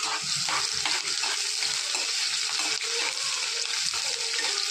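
Onions dropped into hot oil in a pan for a potato fry, giving a close, even, hissing sizzle with soft bubbling pops that holds steady throughout.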